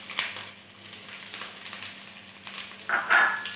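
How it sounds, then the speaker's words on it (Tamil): Garlic, ginger and green chili frying in a pan for pineapple pickle, a soft steady sizzle throughout with a brief louder crackle near the end. "இது எல்லாத்தையும் போட்டுட்டு நல்லா ஃப்ரை பண்ணுங்கள்."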